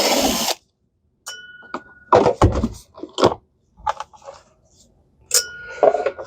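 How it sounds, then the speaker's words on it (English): A power drill drives out the motor cover screws on a Sebo Airbelt E3 Premium canister vacuum, giving short whirring bursts between clicks and clunks of handling, close up with no talk. "I've got 3 screws to take the motor cover off."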